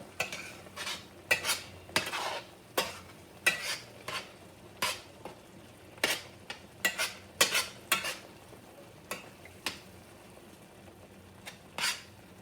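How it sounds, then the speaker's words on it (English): Spinach purée for palak paneer cooking on medium heat in a pan, with a utensil scraping and clinking against the metal in repeated irregular strokes over a soft low sizzle, close and clear with no talking. "So now we're cooking the palak on medium heat."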